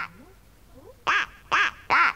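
A cartoon duck quacks three times in a steady rhythm, loud and close, in a Marathi children's story about a duck going to the village fair, after a quieter stretch of soft sounds.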